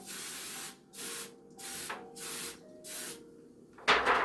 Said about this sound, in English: Spray some spray on there. This is just cheap old cooking spray.